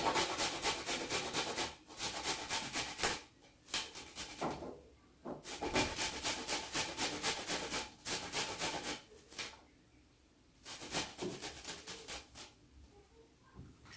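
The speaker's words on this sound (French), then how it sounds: "Et ensuite, nous allons hacher de l'ail." Garlic is chopped with a knife on a board while preparing pig's ears, heard as quick, close runs of rapid tapping strokes in bursts separated by short pauses, with no talking.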